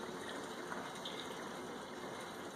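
Mixed two-stroke fuel pours steadily from an ECHO no-spill fuel can into equipment, a continuous even gush of liquid with no talking.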